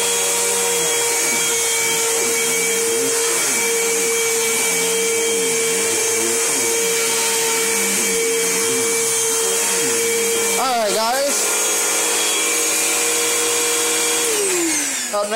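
A 2012 Bissell Momentum vacuum cleaner drones loudly and continuously, its whine wavering as the airflow shifts, before the motor winds down at the end.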